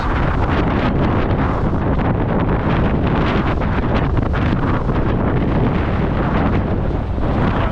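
Wind buffets a microphone on a boat off the west coast of Aitutaki near the airport, a loud, constant, rumbling roar that fills the whole stretch and buries any other sound.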